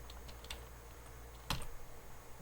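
Faint, sparse clicks of typing on a computer keyboard, a few isolated keystrokes with a louder tap at the end, no voices.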